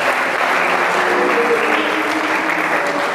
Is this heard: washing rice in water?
no